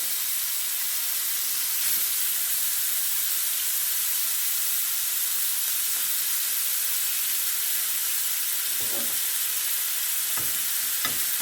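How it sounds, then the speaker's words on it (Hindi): Chicken changezi fries in oil over medium heat with a loud, continuous hissing sizzle. A few brief scrapes of stirring come toward the end, and no one speaks. "हमने आँच जो है वो हमने दरमियानी रखी हुई है। हमने इसको फ्राई करना है"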